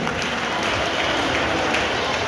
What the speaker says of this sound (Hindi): उनका भी आप जोरदार तालियों से स्वागत करेंगे